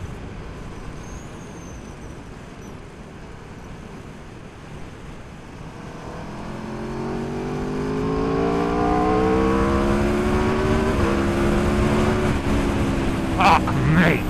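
A 2019 Aprilia RSV4 Factory superbike accelerates hard from a steady cruise, its engine note climbing through rising revs over heavy wind rush, loud and close from the rider's position, with a shift near the end.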